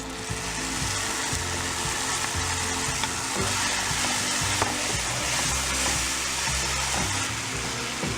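Tomato puree and onions sauté in a non-stick pan, a dense, continuous sizzle with a bubbling, crackling texture that stays loud and close the whole time.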